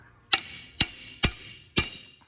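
Four sharp, evenly spaced metallic blows as a hammer knocks an axle shaft into place so its C-clips can come free, close and loud with no other sound between strikes.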